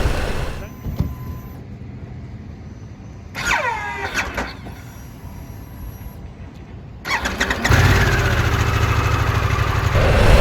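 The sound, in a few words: Harley-Davidson Pan America motorcycle making odd noise when starting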